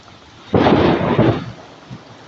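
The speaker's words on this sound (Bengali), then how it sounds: "আপনার বৃষ্টি তুমুল বৃষ্টি বজ্রপাত এবং প্রচণ্ড বৃষ্টি" A heavy rainstorm in Gazipur with strong wind, where a loud, close thunderclap rumbles for nearly a second before fading into the steady hiss of rain.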